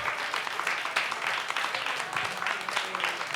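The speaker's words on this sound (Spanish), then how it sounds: "por quien pido un aplauso" An audience applauds at a gathering of Mexican officials and journalists, a moderately distant, even wash of clapping that holds steady for a few seconds.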